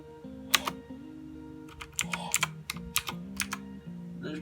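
A brand-new computer keyboard, just unboxed, is typed on in a quick sound test: irregular bursts of sharp, clacky keystrokes with a few deeper stabilizer thunks, close and fairly quiet, with no talking.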